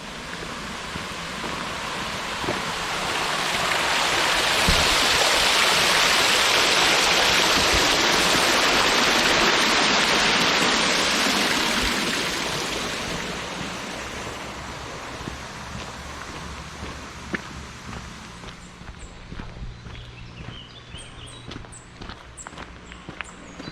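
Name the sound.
water flowing over a canal weir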